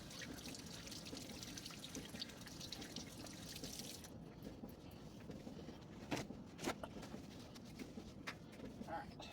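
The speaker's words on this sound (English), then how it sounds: "And yes, I am washing it with hot water." Hot water runs from a kitchen tap while hands are rinsed during meal prep with chicken, a steady trickling, splashing stream throughout, with a few sharper splashes near the end and no talking.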